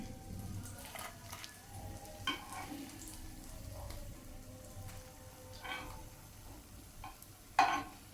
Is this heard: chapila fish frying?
yes